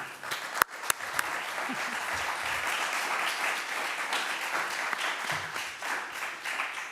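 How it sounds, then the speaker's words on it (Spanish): Press conference audience applauding a film: a few sharp, close claps at the start, then a steady wash of moderate applause, with faint voices underneath. "os pediría un fuerte aplauso para esta película."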